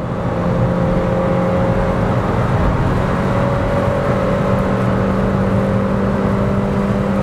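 A Nissan Kicks Exclusive accelerates hard from about 60 km/h with its CVT simulating gear shifts. Its engine and road noise form a steady, fairly loud whirring hum, and no one talks.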